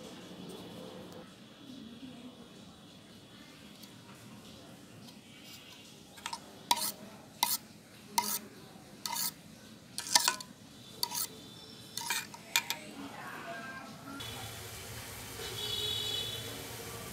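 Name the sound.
egg being mixed into mango pudding mixture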